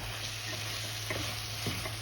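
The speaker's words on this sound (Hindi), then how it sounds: "ये देखिए साथ साथ हमारा भुन भी रहा है" Chicken fries in ghee in a karahi with a continuous bright sizzle and crackle, plus a few soft scraping stirs, alongside a constant low electrical hum and no talking.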